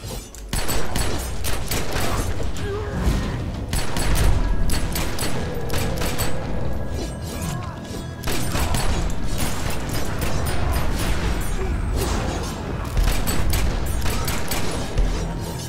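Gunfire in the video game The Secret World, a dense run of sharp, close shots and impacts repeating irregularly throughout, mixed with thuds and mechanical clatter, loud and without talk.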